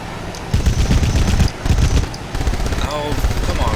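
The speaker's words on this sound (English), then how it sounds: "you can pretty much wail on the main guns" Main guns fire in sustained rapid bursts in the video game BOMB, producing dense, loud automatic gunfire with brief pauses between volleys and engine-like rumble underneath.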